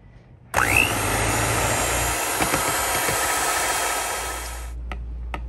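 An electric mixer whirs loudly and steadily for about four seconds, blending a keto tart filling with cream cheese and sweetener, starting abruptly and then winding down to quiet.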